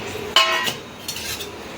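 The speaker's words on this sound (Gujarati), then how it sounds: "આવી રીતે હલાવતું જ રહેવાનું છે, નકર શું છે આપણા ધાણા બળી જશે" Coriander seeds roasting in a pan on low gas and being stirred, giving a few light scraping clinks of a utensil against metal over a steady dry hiss.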